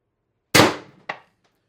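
An X-68 airsoft gun fires 9.9 gram riot balls on 1100 psi HPA with one sharp, loud, close pop and a fading tail, then a smaller crack half a second later. No one speaks.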